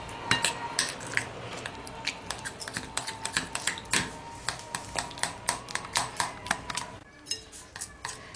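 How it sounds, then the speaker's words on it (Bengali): An egg being mixed into batter in a bowl, with quick rhythmic taps and clinks of a utensil against the bowl, close and fairly quiet, pausing briefly near the end. "ডিমটাকে ভালো করে মিশিয়ে নিচ্ছি।"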